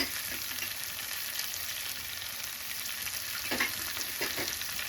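Garlic and ginger paste frying with chicken in a pan, a soft continuous sizzle with a few scraping stirs near the end.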